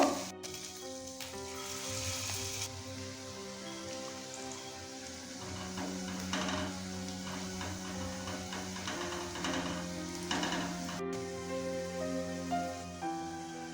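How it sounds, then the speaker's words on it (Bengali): Cauliflower pakoras deep-frying in oil for Cauliflower 65, a steady, even crackling sizzle, fairly quiet, running throughout alongside sustained tonal background sound. "এইভাবেই আমরা প্রত্যেকটা পকোড়া ভেজে নেব।"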